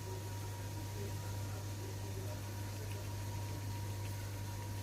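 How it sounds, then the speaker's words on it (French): Steady low motor hum of a kitchen food processor fitted with a four-blade knife, droning evenly and continuously at moderate volume with a constant buzzing tone. "Alors je viens d'allumer mon robot, j'ai mis la lame 4 couteaux"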